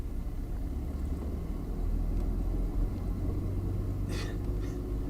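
Cummins 5.9 diesel Ram 3500 dually pickup with a six-speed manual, pulling in fourth gear; a deep, steady low rumble heard from inside the cab, with a couple of faint brief squeaks.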